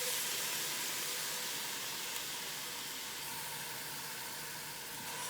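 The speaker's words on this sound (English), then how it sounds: "saute our onions" Chopped onions sauteing in a hot pan for a chicken white bean chili, giving a steady, even sizzle and hiss with no talking over it.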